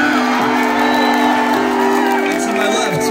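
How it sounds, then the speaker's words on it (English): A concert crowd at an outdoor bandshell cheers, whoops and applauds in a dense, loud, steady roar with voices shouting through it. "A round of applause, everybody."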